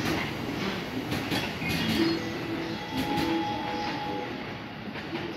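A Tokyo Metro train runs with a steady rumble and rattle of wheels on track, faint squeals and clicks rising through the loud continuous noise.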